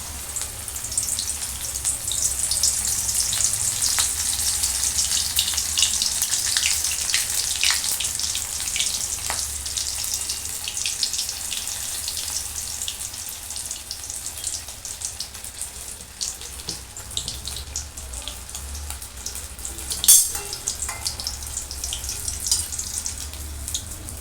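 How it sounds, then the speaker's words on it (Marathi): Chicken lollipops deep-fry in hot oil over medium heat for a restaurant-style chicken starter, giving a steady, dense sizzle and bubbling throughout with one sharper pop near the end. No one speaks. "आता आपण हे डीप फ्राय करून घेऊया छान।"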